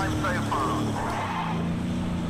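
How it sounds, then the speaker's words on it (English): A canned, repetitive tire screech from a race car in the Project Cars 2 racing game, heard as a squealing, skidding sound over engine noise while a voice talks on top of it. "But that tire screech is very canned sounding. It sounds the same every single time."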